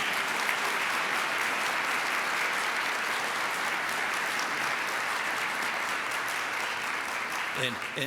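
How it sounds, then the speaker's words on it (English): An audience at a Rotary Club meeting gives a sustained round of applause for a young Jefferson Award honoree, even and steady throughout, tapering slightly near the end. "Round of applause for this young man for being here today."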